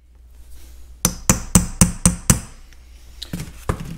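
Hammer strikes on new machine screws, putting in staking marks during reassembly of a Caterpillar D2 diesel engine water pump: six sharp, evenly spaced metallic blows close by, then a few lighter taps, with no talking.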